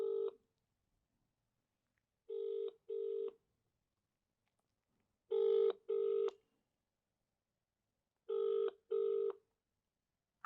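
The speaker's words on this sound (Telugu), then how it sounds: "ఇప్పుడు దానికి ఫోన్ చేస్తున్నా" Telephone ringback tone on an outgoing call, heard as three paired bursts of buzzing rings separated by silent gaps, fairly clear and alone with no talking.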